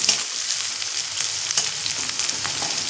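Minced onion fries in hot oil in a pan for prawn paturi, a constant bright crackling sizzle up close with faint stirring clicks.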